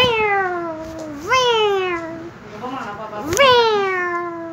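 A human voice mimics a cat, giving two long, loud, drawn-out meows with clear rising and falling pitch, close to the mic with nothing else behind them.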